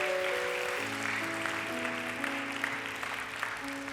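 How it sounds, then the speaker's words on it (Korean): A congregation at a Saturday young adults' worship service claps for a kindergarten children's choir, a soft, even wash of applause from a room full of people over sustained keyboard chords. "다시 한번 큰 박수로 한번 축복하겠습니다"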